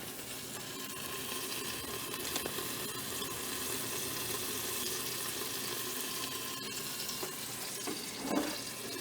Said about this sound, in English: we got our butter melting